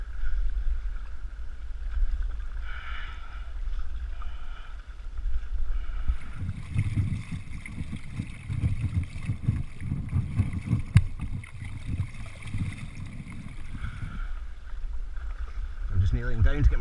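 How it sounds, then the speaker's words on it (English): A stand-up paddle-board is paddled across Loch Tay in Scotland, with soft rhythmic paddle strokes and water swishing against low wind rumble outdoors. "I'm just going to keep paddling"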